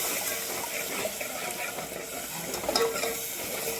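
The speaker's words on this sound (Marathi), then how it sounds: "आता टाकून घेऊ पाणी 1 घोट टाकायचं आणि मस्त परतून घ्यायचं." Chicken masala sautéing in a pan just after a splash of water is added gives a steady, close hiss and sizzle throughout, with faint stirring and no talking.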